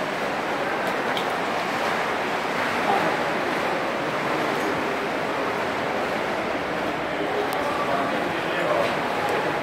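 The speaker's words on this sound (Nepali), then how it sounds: "पानीको छालहरू अनि यो मानव निर्मित केपले हामीलाई मनमा कुतूहल प्रदान गर्दछ" Sea waves wash against the Rosh HaNikra sea caves on Israel's coast, a constant surging hiss with wind buffeting the microphone, while a person talks over the water throughout.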